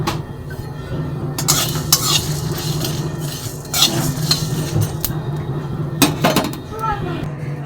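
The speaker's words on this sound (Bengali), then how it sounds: "এগুলো সব টেলে নেব শুকনো কড়াইয়ে" Panch phoron with fennel, mustard seeds and cumin rattles in a dry wok as a utensil scrapes and clinks against the metal, a busy stirring sound with a light sizzle and voices in the background.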